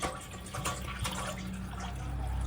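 Water poured into tamarind juice in a bowl for a Telangana-style raw tamarind soup, a brief steady liquid trickle and splash heard alone at close range.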